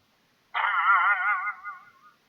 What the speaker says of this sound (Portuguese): O som da mola velha do sofá.